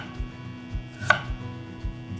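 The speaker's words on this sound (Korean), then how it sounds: "금방 국물 낼 거니까 얇게 슬라이스 해주세요" A knife thinly slices radish on a cutting board for flounder and mugwort soup, a steady series of about five dull chops spaced evenly, close and moderately loud, with one sharper click in the middle.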